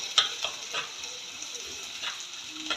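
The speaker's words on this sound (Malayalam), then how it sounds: "ഇതൊന്ന് നന്നായിട്ട് ഇളക്കി കൊടുക്കാം." A spoon or spatula scrapes and stirs chilli powder and coriander powder in a frying pan while they sizzle, as the base for a Kerala-style fish curry served with tapioca. The stirring strokes are faint and irregular, with no talking.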